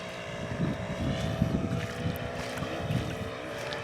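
A Goldberg Super Chipmunk model airplane with a two-bladed 15x6 Master Airscrew K Series propeller drones steadily in flight, with wind buffeting the microphone and a low rumble pulsing underneath.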